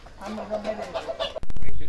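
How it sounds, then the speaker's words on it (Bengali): Native chickens released to roam around a farm, clucking in a short series of repeated calls at moderate distance, followed by a sudden louder burst of noise at the end. "মুরগিগুলোকে ছেড়ে দিলাম"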